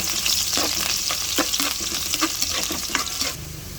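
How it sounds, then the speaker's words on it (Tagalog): Garlic sautéing in a hot pan: a continuous close sizzle with rapid crackles and a few scrape strokes from stirring, fading slightly at the end, with no voices. "maggisa na po tayo ng bawang"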